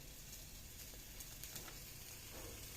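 Cut hotdogs fry in margarine with garlic and onion, producing a quiet, steady hiss of sizzling fat across the whole stretch, with a few faint crackles and no voices.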